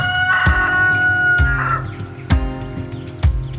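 A rooster crows up close, a drawn-out harmonic call under regular heavy thumps that land roughly once a second, fairly loud throughout.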